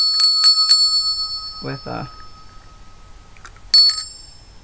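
A small handheld bell with a wire handle is rung in quick bright dings, first three strikes and then a pair of strikes a few seconds later. Someone speaks briefly between them.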